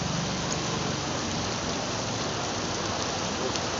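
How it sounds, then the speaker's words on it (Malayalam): Heavy rain pours steadily at Kozhikode beach, a dense unbroken hiss of drops on surfaces, loud and close for the whole stretch with no voices. "ഇപ്പം പെയ്തൊരു മഴ."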